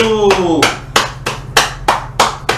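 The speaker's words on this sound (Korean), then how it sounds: "신제품 출시 축하드립니다 박수" A few slow, sharp hand claps, about six evenly spaced, from a person celebrating the launch of a new MSI computer case, close and loud, following a brief tonal vocal sound at the start.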